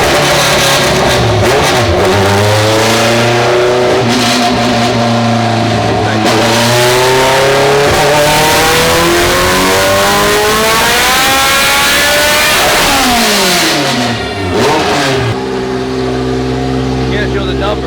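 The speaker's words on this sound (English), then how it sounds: "It's the loudest car I've ever heard. VTEC mixed with nitrous." A Honda Civic with VTEC and nitrous revs hard and loud, engine pitch climbing and falling in repeated sweeps, with voices talking over the roar throughout.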